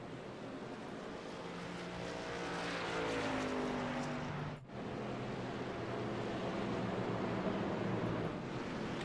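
NASCAR race car engines roar at Talladega in a dense, continuous wash of noise that swells as the pack passes, with a brief dip midway before the roar resumes, loud and sustained.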